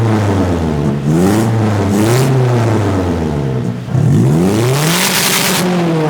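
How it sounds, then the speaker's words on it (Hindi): Repeated revs from a sports car with its cut-off exhaust valve open: a loud, close engine note climbs and falls in several sweeping surges over six seconds, with no voices. "इसमें कट ऑफ एग्जॉस्ट आता है, यानी कि आप इसको लाउड और सिंपल कर सकते हैं।"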